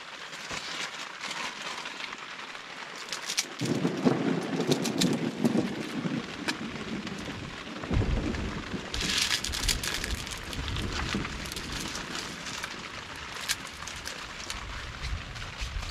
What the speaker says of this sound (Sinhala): මේනදී එළියේ අකුණු ගන්නවා. උගාලා මේ ඇස්සි වහිනවා.